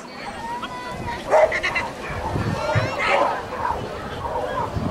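A dog at an agility competition barks and yips repeatedly, fairly close and loud, over a steady background of crowd chatter and voices.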